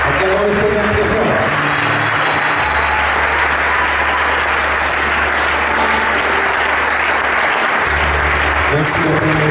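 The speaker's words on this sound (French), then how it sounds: "Acclamons le Seigneur très fort." Loud, sustained applause and acclaim from a church congregation fill the space, with voices calling out over the dense clapping and a steady low hum beneath.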